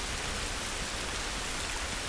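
Continuous heavy rainfall from The Last of Us video game, an even, hissing downpour spattering on surfaces with no pauses or voices, close and loud throughout.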